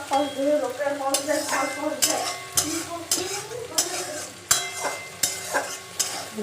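Capsicum frying with spiced chicken in a pan, a steady sizzle broken by repeated close scraping and clinking of a utensil stirring against the pan.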